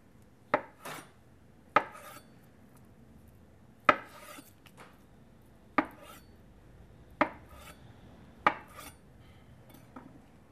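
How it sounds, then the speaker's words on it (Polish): A knife cuts white tofu into cubes on a board, about eight sharp distinct chops spaced irregularly a second or two apart, close and clear with no talking. "Białe tofu pokroimy w kostkę."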